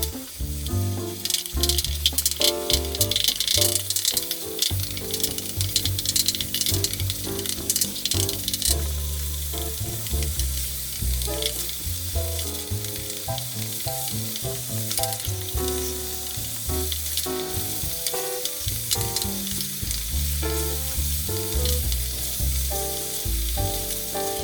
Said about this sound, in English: I'll start browning it with the soup in there and it'll slowly become into a paste.